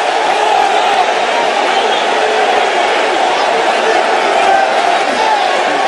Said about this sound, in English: The crowd reacts here in Dallas.